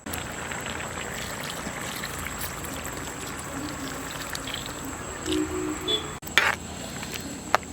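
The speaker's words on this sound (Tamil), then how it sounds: "அரைச்ச அரை முடி தேங்காய் பால் சேர்த்துக்கலாம்." Ground coconut milk poured into boiling masala for a chicken liver fry makes a continuous, moderate pouring and bubbling wash, with a few brief clinks and splashes near the end.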